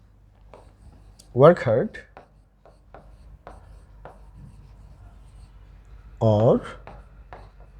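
Marker or chalk scratches on a board during a grammar lesson: short, scattered strokes that come and go, with a teacher talking over them.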